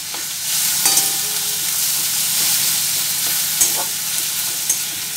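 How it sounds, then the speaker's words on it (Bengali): Garlic, tomato and onion fry in a pan over a medium flame with a loud, constant sizzle, while a utensil scrapes and stirs at intervals with a few sharper clicks, close up and without voices. "আর ভালোভাবে রসুন আর টমেটোটা পেঁয়াজের সাথে কষিয়ে ভেজে নিতে হবে।"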